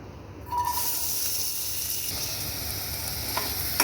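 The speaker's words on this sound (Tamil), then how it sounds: "இதை நல்லா ஃப்ரை பண்ணிக்கலாம்" Finely chopped onion and tomato hit hot oil in a pan and sizzle loudly and continuously, with occasional stirring scrapes.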